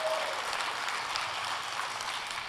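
Audience applause fills a gathering at Unity Temple, a steady, dense wash of clapping at moderate volume that holds evenly from start to finish with no voices standing out.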